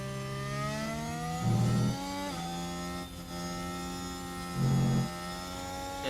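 A racing car engine in an F1 video game on the Qatar circuit holds a steady high whine, with its pitch sweeping through gear changes and two brief deeper bursts.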